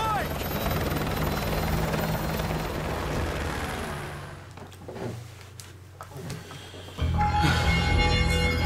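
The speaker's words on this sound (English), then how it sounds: "My helicopter." A military helicopter in Call of Duty: Modern Warfare 2 Remastered roars loudly with a dense rotor rumble, fades into quieter clatter and voices, then surges back in close and heavy.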